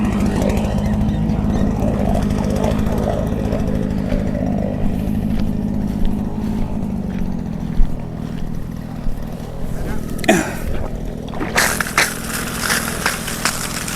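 A small watering boat's engine, run gently without revving, drones steadily and loudly throughout on a farm pond, a low rumbling hum with water splashing and a few knocks near the end.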